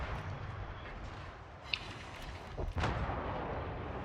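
Yamato battleship main guns firing in a naval video game, a deep rumbling blast layered over steady engine and ocean noise, with one sharp crack followed by a heavier booming roll.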